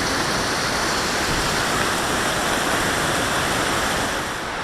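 Wapama Falls in Yosemite pours down in a loud, steady roar of crashing water, a dense unbroken rush that fills the whole stretch with no voices.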